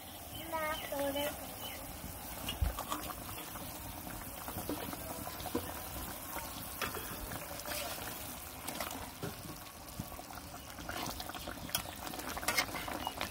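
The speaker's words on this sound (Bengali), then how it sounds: "এই যে মশলা কষিয়ে জল দিয়ে দিচ্ছি, জাল হয়ে গেছে" Fish curry simmers in a pot after water goes onto fried spices, a soft continuous bubbling and gurgling that stays steady and fairly quiet throughout, with faint kitchen noise.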